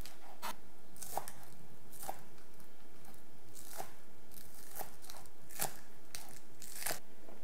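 Knife slicing green onions on the diagonal, a series of crisp, evenly spaced chops at close range with no talk.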